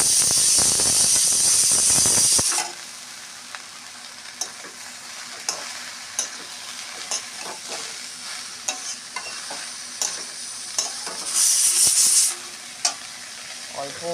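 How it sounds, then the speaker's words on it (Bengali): Green chillies frying in a pan with water spinach and potato, a loud sizzling hiss that cuts off sharply after a couple of seconds, then quiet stirring scrapes and taps, followed by another short burst of sizzle. "এবার কাঁচা লঙ্কাগুলো দিয়ে দিলাম।"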